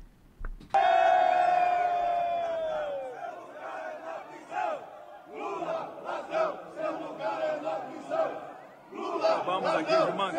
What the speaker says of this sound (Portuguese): Tem um vídeo do momento em que a votação foi aprovada, que foi anunciado o número de votos, que o Pablo aqui já falou, e tem uma vaia